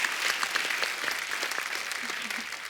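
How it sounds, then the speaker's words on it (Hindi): Studio audience applause on a comedy talk show set, a steady wash of many hands clapping throughout, with a few brief voice fragments rising over it near the end. "एक बार जोरदार ताली हो जाए"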